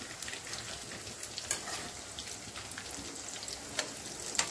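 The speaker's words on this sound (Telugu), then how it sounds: "ఇవి హై ఫ్లేమ్లో కాకుండా కొంచెం మీడియం ఫ్లేమ్లో పెట్టుకొని ఫ్రై చేసుకోవాలి" Chicken frying in oil over a medium flame gives a steady close-up sizzle with crackly pops throughout and no talking.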